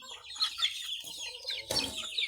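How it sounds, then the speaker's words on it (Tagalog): Native chickens cluck close by at a mountain farm in the Philippines, a string of short, scratchy clucks and squawks with one louder burst near the end. "alaga ko ng konting manok."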